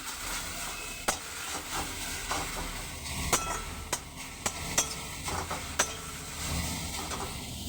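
Jute leaves (pat shak) frying in a pan, with steady sizzling and stirring scrapes, broken by several sharp clinks of the spatula against the pan.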